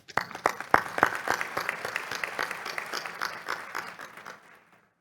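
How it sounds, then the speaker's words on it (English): Applause breaks out for the speakers at a WHO European regional meeting, opening with loud individual claps, settling into a steady patter, then tapering off and fading to silence near the end. "let's give them a big round of applause for their job"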